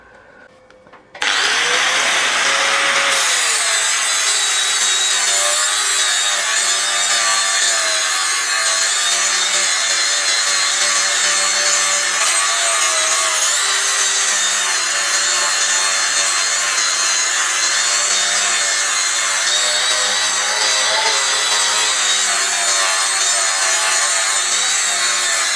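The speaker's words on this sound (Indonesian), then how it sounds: "Mau langsung saya amplas dengan flap disc produk dari Bosch." A Bosch GWS 700 angle grinder sands with a flap disc, spinning up abruptly and then holding a loud, steady high-pitched whine with a gritty abrasive rasp throughout, no talking.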